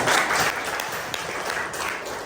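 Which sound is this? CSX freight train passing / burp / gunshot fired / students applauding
students applauding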